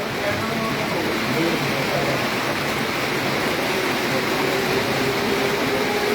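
Heavy rain pours down steadily in Comilla during a thunderstorm, a dense, even roar of falling water that stays loud and unbroken throughout, with faint voices buried underneath.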